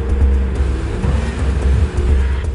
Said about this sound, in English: Several witnesses recall hearing the truck's engine revving loudly